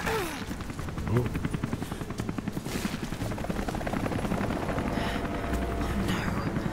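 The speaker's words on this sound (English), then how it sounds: "Helicopter." Helicopter in the Rise of the Tomb Raider video game, a steady rapid rotor chop thudding continuously at close range with some wind noise around it.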